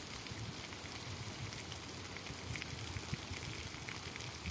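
Water is poured over a lemon plant like rain, making a faint, even patter and splash that runs steadily without pause.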